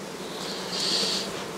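Honey bees from a strong colony swarm over a lifted comb during hive work, a steady low buzzing hum that swells louder midway through, with no talk.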